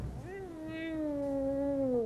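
A cat in a horror film scene lets out one drawn-out, rising then slowly falling meow, clear and close, lasting about two seconds.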